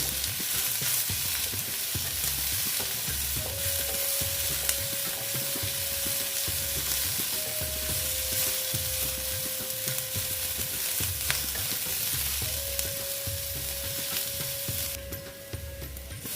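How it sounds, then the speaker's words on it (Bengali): Cashew nuts fry in a pan with a steady, loud sizzle that runs unbroken for the whole stretch, with faint stirring scrapes and no talking. "তারপরে দিলাম কিছু কাজু বাদাম দিয়ে এটা আমি ভালো মতন ভেজে নেব"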